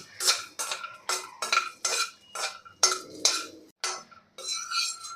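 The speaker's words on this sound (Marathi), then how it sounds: "यामध्येच आपल्याला घालायचं आहे दहा ते बारा काजू आणि दहा ते बारा बदाम हे फक्त हलकेसे आपल्याला भाजून घ्यायचे आहे" Cashews and almonds being roasted in melted ghee in a pan, heard as a close series of quick metallic scrapes and clinks of a spoon against the pan in a steady stirring rhythm.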